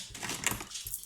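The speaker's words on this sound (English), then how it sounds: "dogs in the background walking about in the laminate floor" Soft tapping and clicking of dogs' paws moving across a laminate floor, faint and close by, with no voices.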